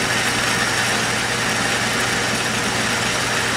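A metal lathe cuts a part in a 5C collet setup, breaking chips as it goes: a steady, loud broadband machining hiss over a low motor hum, continuous and close with no talk.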